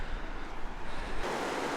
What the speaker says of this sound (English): We can see the steam and the water coming down, going right into the river with this awesome bridge here.